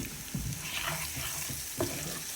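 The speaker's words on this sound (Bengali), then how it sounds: "এবারে পেঁয়াজ রসুন আর নুনটা মরিচটা ভাজি হয়ে আসতেছে" Onion, garlic and chili fry for an okra bhaji with a continuous moderate sizzle, broken by a few soft stirring knocks and scrapes against the pan.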